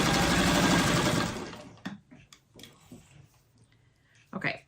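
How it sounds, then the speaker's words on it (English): A home sewing machine stitching fabric for freeform quilt blocks runs in a loud, steady whir for about a second, then stops, leaving scattered clicks and handling noises and a final short burst. "let me see if it's gonna sew right now"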